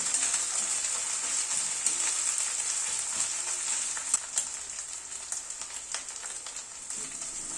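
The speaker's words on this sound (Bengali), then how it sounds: "আদা রসুন কাঁচা লঙ্কাটা পেঁয়াজের সাথে আবার একটু মিনিট খানিক নাড়াচাড়া করে নিলাম" Onion fries in a pan with ginger, garlic and green chili, a steady close crackling sizzle, broken by occasional scraping and clinking as the mixture is stirred, with no voices.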